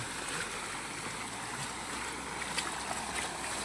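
A vehicle pushes through rainwater on a flooded road, making a continuous, fairly faint rushing wash of water with small splashy flickers and no voices.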